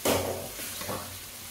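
Chopped tomatoes land in a pan of sautéed onions, bringing a short burst of sizzle and a stirring scrape that settles into a quieter fry. The sound is close and brief, with no talking.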